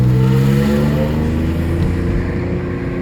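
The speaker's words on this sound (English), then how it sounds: "That's one hell of a weird wheel bearing noise." An Alfa Romeo 156 with a failing wheel bearing gives off a loud, steady mechanical drone with layered tonal hum that wavers slightly in pitch and fades a little toward the end, heard close and without talk.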